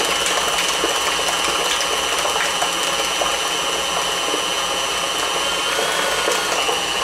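A stand mixer with a paddle beating cheesecake mixture whirs steadily and evenly at close range, a constant motor drone with faint rhythmic churning throughout.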